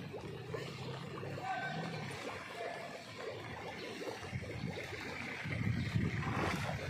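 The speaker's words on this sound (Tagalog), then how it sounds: "Lakas ng agos talaga ng tubig." Strong floodwater rushes across Aguinaldo Highway in Bacoor, a continuous broad roar of flowing water heard up close, swelling slightly toward the end with faint voices beneath.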